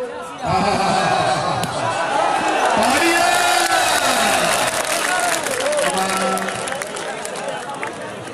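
A large crowd at a Pakistani street performance cheers and claps for Rana, applause and voices rising into a loud, sustained roar, with shouting and chatter mixed throughout.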